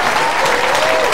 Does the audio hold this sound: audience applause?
yes